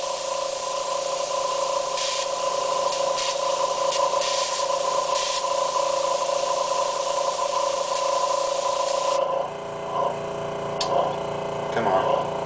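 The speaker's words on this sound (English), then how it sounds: "My airbrush really needs to be fixed, I think." Steady, loud airbrush spray hissing for about nine seconds, then cutting off to quieter clicks and handling noise.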